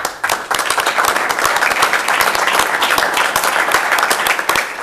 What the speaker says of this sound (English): If we could just give both Westland Fire and Westland PD a round of applause.